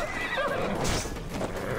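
A horse whinnies in Assassin's Creed Valhalla, a drawn-out neigh over the soft clip-clop of hooves and quiet game ambience, moderately loud and with no talk.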